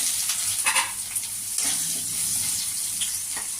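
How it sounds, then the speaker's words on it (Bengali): Potatoes frying in hot oil with bay leaf and cumin seeds, a steady close sizzle with brief brighter bursts as they settle in the pan, no talking. "জিরাটা ফুটে গেছে এবার আমি আলুগুলো ছেড়ে দিলাম"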